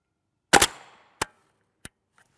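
A single sharp gunshot of 5.7x28mm 55gr FMJ SB193 clone ammunition fired at a rigid armor panel, loud and close with a short decay, followed by two fainter echoes or impacts.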